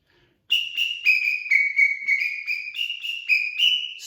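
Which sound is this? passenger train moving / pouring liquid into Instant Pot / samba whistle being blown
samba whistle being blown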